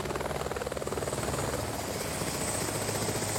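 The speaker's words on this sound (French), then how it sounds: "Le genre d'établissement où la clientèle arrive en hélicoptère." A helicopter flies overhead near a private beach at Pampelonne, its rotor beating in a steady rapid pulse over a continuous engine whine, sustained and moderately loud throughout.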